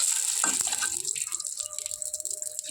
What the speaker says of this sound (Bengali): এবার দিয়ে দেব যে টক করে রাখা সেই জলটা দিয়ে দিলাম।